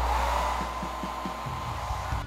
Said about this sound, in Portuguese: Vou secar ele novamente no secador